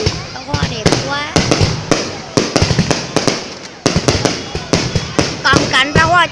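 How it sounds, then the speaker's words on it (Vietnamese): Fireworks display over a hilltop park in Sơn Hòa for a 2019 anniversary celebration, with rapid loud cracks and bangs in irregular clusters, dense crackling bursts, and whistling rises, while people talk and cheer nearby. "Các bạn ơi, pháo hoa đẹp quá."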